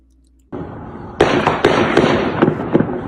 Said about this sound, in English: Hear the gunfire.